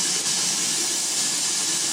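Hot water faucet opened in a house to bleed trapped air from the pressure lines: a loud, steady, close hiss of rushing air, alone.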